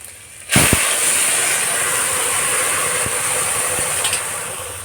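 Leafy greens drop into hot oil tempered with ginger, setting off a sudden loud burst of hissing steam that settles into a strong, steady sizzle, with a few faint knocks underneath.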